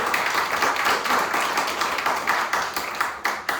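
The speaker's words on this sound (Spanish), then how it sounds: "Dale un aplauso muy fuerte y pónganse en pie" A crowd at a church service claps continuously and loudly in a reverberant hall, a dense steady wash of applause with no pauses.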